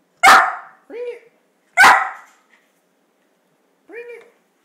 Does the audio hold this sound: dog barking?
yes